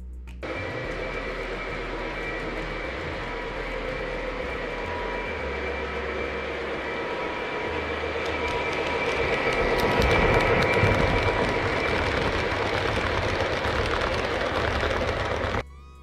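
A steady rumbling hum of a small train running along track, continuous for the whole stretch and swelling slightly in the middle, with no talking.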